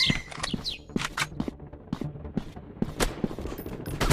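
Rapid gunfire in a first-person shooter video game, sharp repeated bursts and single shots close and loud, with clicks and footsteps between them.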